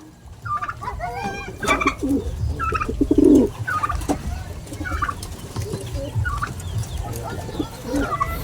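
Homing pigeons coo in a coop, with repeated soft, throaty calls from several birds overlapping at irregular intervals, close and moderately loud over a low background hum, with no talk.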